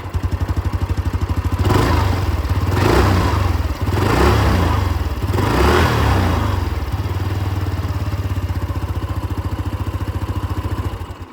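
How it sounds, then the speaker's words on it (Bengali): Hero Xoom 160 scooter idling at the exhaust with a steady close putter, blipped three times into short rising revs around the middle before settling back to idle and cutting off. "এটা ছিল এখানে জুম 160-র আওয়াজ।"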